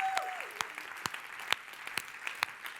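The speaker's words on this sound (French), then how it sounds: "On peut l'applaudir, on peut l'applaudir." Conference audience at a French stage show giving a few seconds of applause, a thin, quiet spread of clapping with sharper individual claps standing out at intervals.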